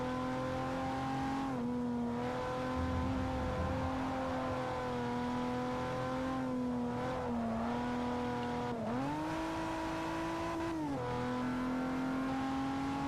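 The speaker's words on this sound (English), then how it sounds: "That'll kickstart the engine." A race car engine in the video game Forza Motorsport 4 drones loudly and steadily, with pitch dips and climbs as it revs through gear changes, no voices over it.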